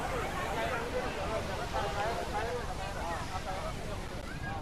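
A continuous wash of falling water from Viripara waterfall in Munnar, dense and unbroken, sits beneath busy crowd voices talking nearby.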